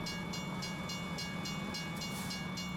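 A long train rolls past in American Truck Simulator, its wagons giving a steady rumble with regular clicking beats from the wheels, continuous and fairly quiet.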